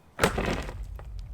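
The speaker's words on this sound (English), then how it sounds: "Next target, large, thick stones. And the normal sledgehammer easily smashed it." An ordinary sledgehammer smashes a large, thick stone: one sharp, loud crack and shatter, then a brief rough rumble of breaking rock fading away.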